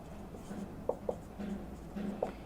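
Marker or chalk writing on a board in a chemistry lecture hall, a few short squeaky strokes and taps spaced apart over a quiet room hum, with no talk.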